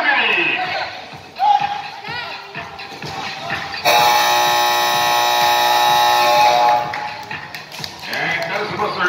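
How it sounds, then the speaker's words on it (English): The end-of-quarter buzzer at an invitational basketball league game sounds as a loud, sustained blare of about three seconds, rising over crowd noise and an announcer's talk in the gym. "And that's the buzzer."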